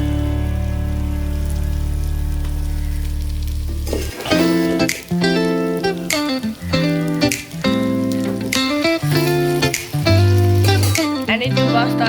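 Drained pasta stir-fries in a hot pan with a steady, loud sizzle that continues after music with a clear melody starts partway through.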